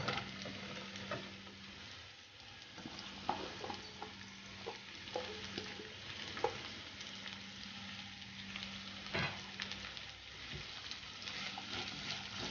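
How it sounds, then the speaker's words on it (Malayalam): Sliced onions sauté with ginger and garlic in a pan for spicy chicken rice. A soft, continuous sizzle runs throughout, broken by scattered scraping and clicking as a spoon stirs. "ഇനി ഇതിലേക്ക് 2 സവാള അരിഞ്ഞത് ചേർത്ത് കൊടുക്കാം."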